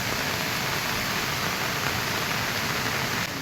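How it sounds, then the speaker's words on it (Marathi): Heavy monsoon rain pours down in the Konkan countryside, a dense, steady roar of rainfall that holds at the same loud, unbroken wash for the whole stretch with no voices. "आता पाऊस पडत राहिला आहे"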